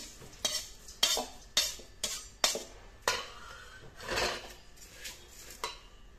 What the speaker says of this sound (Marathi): आता हे आपण एका मोठ्या भांड्यामध्ये काढून घेणार।